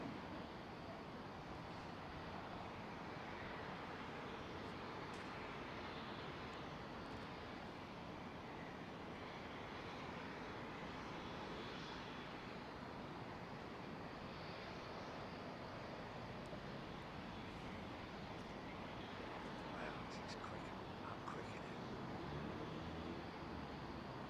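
Broad roar of an airliner landing on Heathrow runway 09R, a steady loud rumble with wind-like noise holding throughout, no voices.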